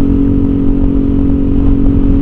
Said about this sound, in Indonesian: Itu knalpot dari produk saya TZM Project